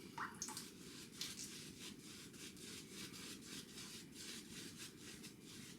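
A shaving brush works water into a simple, thirsty Martin de Candre Agrumes soap in a steady, quiet, rhythmic wet rubbing and swishing that continues throughout, close and faint.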